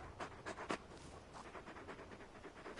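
Torgal, the wolf-dog companion in Final Fantasy XVI, panting softly in quick rhythmic breaths, faint and close, with no talk over it.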